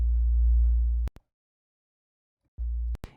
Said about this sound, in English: I used a stock bass in Nexus